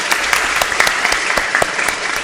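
An audience at an Islamic boarding school talk show applauds, with a dense, steady burst of loud clapping filling the whole stretch and little else audible.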